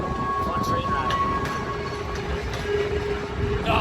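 A passenger train rolls along the Lehigh Gorge rail line in Jim Thorpe, Pennsylvania, a steady, close rumble with a faint high whine that holds for the whole stretch.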